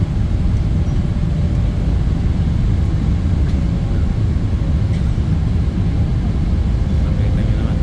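An airplane at an airport in the Philippines produces a loud, constant engine roar that holds steady the whole time, with a heavy low rumble and no breaks.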